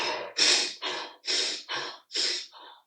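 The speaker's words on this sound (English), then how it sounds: "take like 5 breaths like you're sprinting" Five or six rapid, forceful breaths follow one another in a steady rhythm, like all-out sprinting, each a loud close-up huff with short gaps between them.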